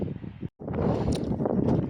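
Low, rumbling wind buffets the microphone continuously outdoors during grass mowing, with a brief dropout before the gusty roar resumes.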